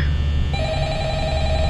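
The phone in the Five Nights at Freddy's video game rings with a steady electronic tone that holds throughout, heard alone without any talking.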